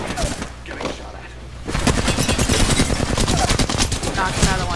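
Rapid automatic gunfire in a multiplayer shooter video game, dense bursts of shots that grow louder and continuous after a quieter opening, with faint voices underneath.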